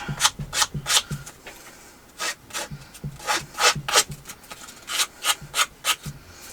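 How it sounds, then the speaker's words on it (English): Scissors blades scraped along the edges of a colored paper folder to rough them up, a series of dry rasping strokes in a steady rhythm, close and fairly clear, with short pauses between bursts. "I'm gonna rough up the edges with my scissors"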